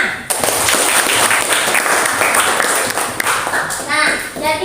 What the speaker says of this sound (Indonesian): kita kasih tepuk tangan dulu buat Luna